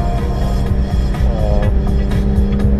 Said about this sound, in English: When you get on the gas, you can hear it coming